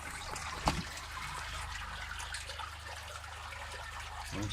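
Spring water flowing out of rocks at the Inca ruins of Peine in the Atacama Desert: a soft, steady trickle with a faint splash, heard up close and alone.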